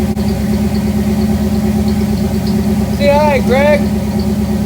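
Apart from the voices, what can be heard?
Jeep engine running before a test drive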